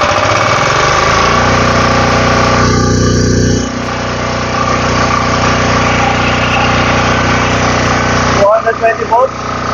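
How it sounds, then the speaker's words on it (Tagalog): A PHIILKING 2300i inverter generator runs with a steady engine hum throughout, its tone shifting slightly partway through, with brief clicks near the end. "silipin natin at i-start natin yung ating generator. And then, i-run natin siya"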